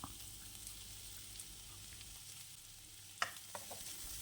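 Onions and chopped carrot are stirred in a frying pan for oats upma, giving a faint, steady sizzle with a few soft scrapes of the spoon near the end.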